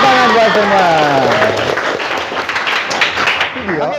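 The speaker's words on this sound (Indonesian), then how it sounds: "Tepuk tangan buat semua." Classroom applause from students in an Islamic religious education lesson, clapping mixed with voices and chanting at the start, then a thinner spread of claps before talk resumes near the end.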